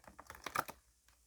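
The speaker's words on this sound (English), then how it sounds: "These are kind of hard to shuffle since they're round." Quick papery flicks and soft clattering of round, slippery tarot cards being shuffled up close, a brief flurry that fades out.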